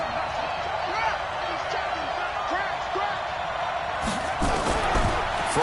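Crowd noise fills an American football video game stadium ahead of a big third down, a steady roar of cheering with scattered clapping and thumps that swell louder toward the end.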